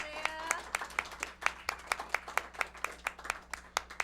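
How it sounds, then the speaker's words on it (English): A round of applause for Isaiah at a Thanksgiving Day special broadcast: sharp, distinct claps ring out in a quick steady rhythm, a few close hands dominating over a thinner crowd, with a brief voice at the start. "Let's give him a round of applause, please."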